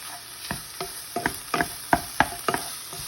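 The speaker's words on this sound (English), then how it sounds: "I'm frying little pieces of sausage" Crackling sizzle of small sausage pieces frying in a skillet, with sharp spattering pops and scraping stirs coming every fraction of a second, close up.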